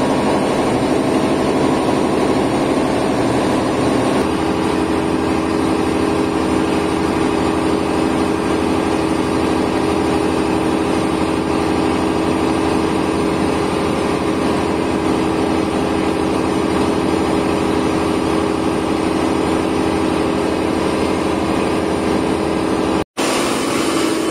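A generator runs steadily for the whole stretch, a loud, continuous low engine drone with no breaks until a sudden cut near the end.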